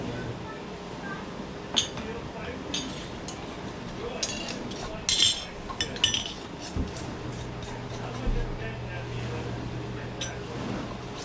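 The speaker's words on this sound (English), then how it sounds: "So now she's gonna put her lids on here." Metal lids go onto glass canning jars of homemade chow chow relish in a kitchen, giving scattered light clinks and taps while people talk.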